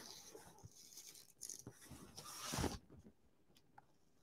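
Sewing pin scoring around the inside edge of a machine embroidery hoop with hooped stabilizer, a soft, close scratching in short irregular strokes with one louder rasp near the end.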